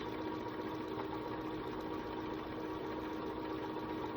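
A home sewing machine stitches straight down a table runner seam, giving a constant, even motor hum with a slight rattle that holds without a break throughout.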